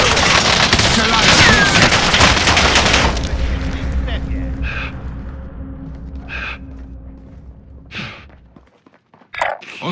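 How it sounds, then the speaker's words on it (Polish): Heavy gunfire in Call of Duty: Modern Warfare: dense, loud automatic bursts overlap at first, then thin out into scattered distant shots and a few isolated blasts. A voice is heard briefly. "Strzelają do mnie!"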